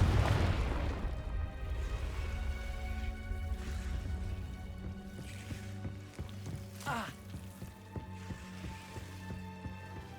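The Confringo blasting spell in the video game Hogwarts Legacy goes off with a loud booming burst at the start, then crackles and rumbles as it fades, with debris-like pops scattered afterward.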